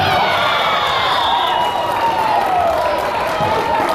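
Crowd cheering and applause in a school gym at a high school volleyball match, a steady loud roar of voices filling the whole stretch, with a commentator talking over it.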